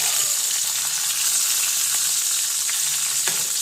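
Tomatoes fry in oil in a pan with a steady, loud, close sizzle and occasional stirring, with no voices.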